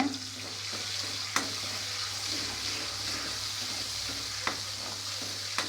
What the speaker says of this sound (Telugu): నెక్స్ట్ టొమాటో వేసేసుకుంటున్నాను. చిన్న సైజ్ టొమాటో అయితే కట్ చేసుకున్నాను. మిక్స్ చేసేసుకున్నాము.